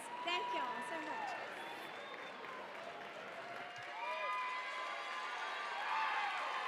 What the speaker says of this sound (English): Another round of applause for these.